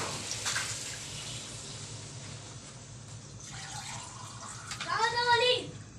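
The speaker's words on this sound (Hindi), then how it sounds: "अब इसमें हम पानी डाल देंगे" Water pours and splashes into a pot of chicken and turnip in a steady stream, with a voice talking briefly near the end.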